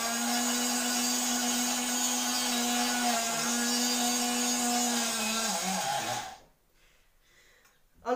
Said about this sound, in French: Et je vais râper tout ça.